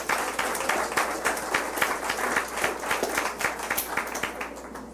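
Congregation at a church sermon applauding together, a steady dense patter of many hands clapping continuously at moderate loudness throughout.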